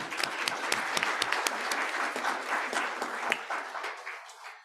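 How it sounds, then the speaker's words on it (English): Modest applause at a SWOG group meeting for the Hope Foundation, a smaller crowd whose distinct sharp claps stand out against the general patter, steady at first and then tapering off. "So huge, huge round of applause for the Hope Foundation."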